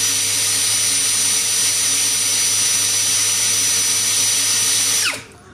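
Tankmor machine running at speed 1, a loud, steady motor whine like a power tool that holds constant for about five seconds before spinning down and cutting off.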